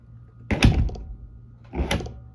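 A door swinging shut on a freshly lubricated door closer in an apartment building, giving two soft separate thuds about a second apart, moderately loud and close, with no talking.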